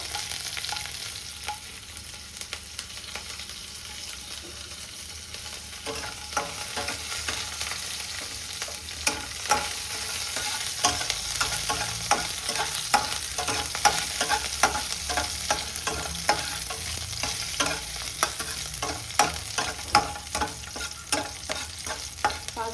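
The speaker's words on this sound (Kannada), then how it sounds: "ಸೊ ಗಾರ್ಲಿಕ್ ಚೆನ್ನಾಗಿ ಫ್ರೈ ಆಗಿದೆ" Garlic and chillies fry in a pan for a paneer manchurian, a steady close sizzle broken by frequent rhythmic scrapes of a spatula stirring, growing busier toward the end.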